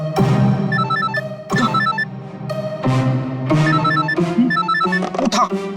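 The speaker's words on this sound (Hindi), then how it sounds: "फोन उठा, जल्दी जल्दी जल्दी।" A telephone rings loudly in repeated bursts of electronic trilling, each ring separated by short pauses, in a tense Hindi crime-drama scene.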